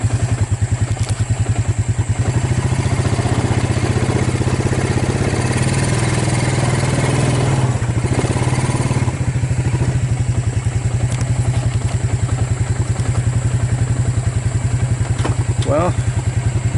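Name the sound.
Suzuki Kingquad ATV engine idling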